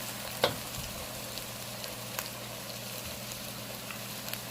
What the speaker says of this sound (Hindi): लहसुन अदरक को 2 से 3 मिनट तक फ्राई कर लिए